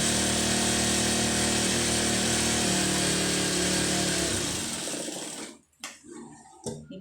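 A sewing machine stitches the lining of a blouse in a loud, steady close whir that runs for several seconds, then stops, leaving a few faint clicks and handling sounds.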